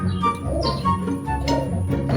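Racing pigeons arrive at a countryside loft near a road in Alimodian, Iloilo, with soft cooing and light chirps over steady low outdoor rumble, no talking.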